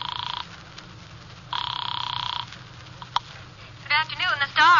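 A telephone ringing in an old-time radio drama, two long electric bell rings with a pause between them, clear and close, followed by a voice answering.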